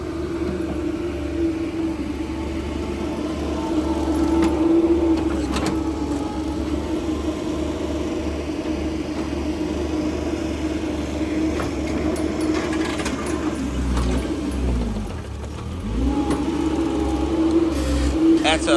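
A machine excavates dirt from a basement, its engine rumbling steadily with a constant hum, fading briefly near the end before resuming; people talk over it.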